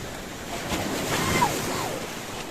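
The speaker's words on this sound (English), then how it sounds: "And as usual, the sea is getting angry." Sea waves wash and crash against rocks at a beach at twilight, a steady roaring surf with wind noise, moderately loud and continuous with no talking.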